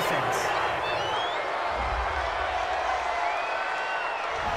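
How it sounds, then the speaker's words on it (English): A stadium crowd at a football game reacts to a penalty call with a sustained, fairly distant roar and scattered shouts and whistles, under commentators' talk. "this crowd does not like that call"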